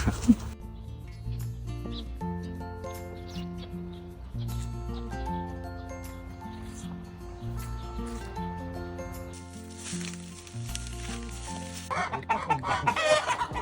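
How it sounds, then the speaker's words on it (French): Hens cluck and murmur steadily close by, with overlapping calls and a few louder squawks toward the end. "je vous présente mes poules"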